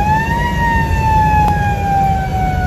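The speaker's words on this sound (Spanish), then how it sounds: "Ya calamos la sirena, a ver cómo se escucha tu sirenazo." A Federal brand electric vehicle siren, tested while parked, sounds as a loud, steady wailing tone that slowly falls in pitch, heard alone with no talking.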